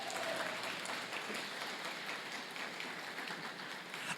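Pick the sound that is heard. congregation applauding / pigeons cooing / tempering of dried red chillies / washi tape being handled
congregation applauding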